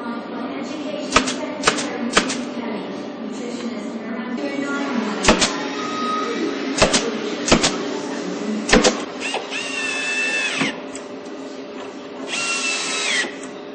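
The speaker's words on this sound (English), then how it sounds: "These are glued and pinned in position, again using an air-driven or pneumatic tool." Pneumatic nail gun pinning wood strips on kitchen furniture, a series of sharp separate snaps at irregular intervals over a steady compressor hum, with short hissing air bursts near the end.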